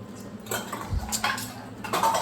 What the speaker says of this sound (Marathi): चमचा पडला ना पायावर.